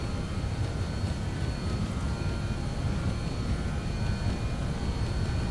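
An airliner's engines roar steadily during the takeoff roll in Microsoft Flight Simulator 2020, flaps set to 30, leaving Amsterdam Schiphol. The noise is a constant broadband rumble from start to finish, with no voices.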